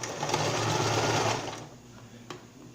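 Sewing machine running steadily for about a second and a half, stitching a tuft of hair onto a beginner's cloth rag doll made of raw cotton, then stopping, leaving a faint low hum and a light click.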